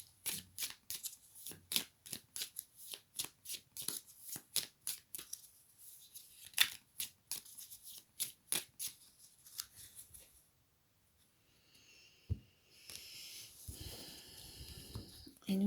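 Tarot cards are shuffled in quick, crisp riffling bursts, a series of papery snaps repeating at an uneven rhythm, close and fairly soft, then trailing into quieter rustling and handling noises near the end.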